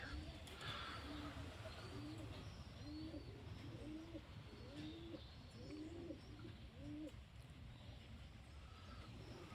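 Soft, repeated pigeon coos roll out in a steady rhythm over a low background rumble, with a few faint chirps higher up.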